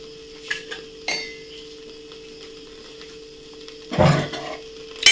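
A pot of tapioca (kappa) dish shaken to mix it: a few sharp metallic clinks early on, a quiet stretch, then a short rattling, shuffling burst of the pot near the end.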